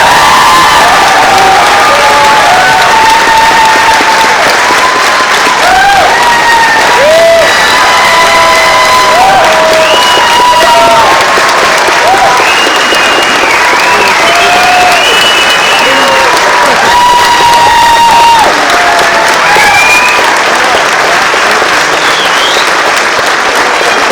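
A large crowd at a nursing class graduation ceremony gives sustained, loud applause for the candidates, with scattered cheers and whoops running throughout the long, dense clapping.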